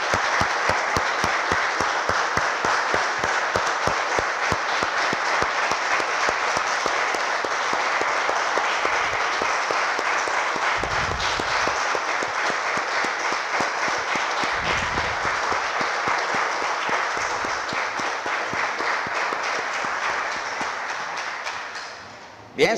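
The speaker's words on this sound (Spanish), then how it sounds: "Le damos un aplauso, hermanos del Señor." Church congregation applauding after a prayer, sustained crisp hand clapping for about twenty seconds with a few low thumps mixed in, fading out at the very end.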